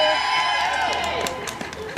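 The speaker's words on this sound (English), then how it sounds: "He brought his own amazing cheering section." A crowd cheering for a speaker being introduced at an event, a loud burst of cheers and shouts that fills the two seconds.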